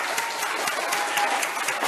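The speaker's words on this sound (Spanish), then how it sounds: "¿Qué les parece si todos damos un gran aplauso a Andrés?" A crowd at a meeting with writer Andrés Rinderknetch breaks into steady applause, a dense, even rattle of many hands clapping close by with no talking.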